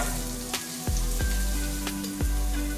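Onions and green chili sizzling in a hot frying pan for a shrimp curry, a steady close frying hiss with a few sharp clatters and taps of a utensil against the pan.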